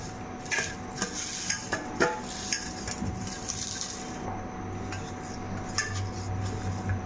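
Fried neem leaves are crushed by hand in a kitchen, heard as a steady run of dry crackling and scraping with sharp clicks of utensils against a dish, moderately close and without talk.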